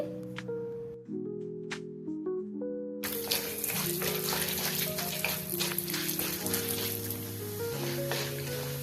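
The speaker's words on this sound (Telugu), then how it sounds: "ఫస్ట్ వీటిని లో ఫ్లేమ్లో పెట్టేసుకొని బాగా ఫ్రై చేసుకోవాలి" Chana dal and urad dal fry on low flame in hot oil, a steady crackling sizzle that starts abruptly partway through and continues beneath prominent background music.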